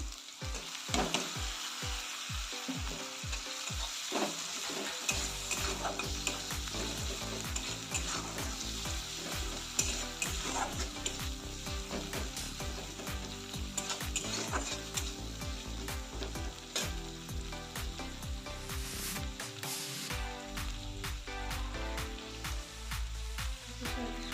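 Ginger-garlic paste, chopped tomato and other ingredients fry and are stirred in a pan, giving a dense continuous sizzle with frequent scraping strokes throughout, loud and close.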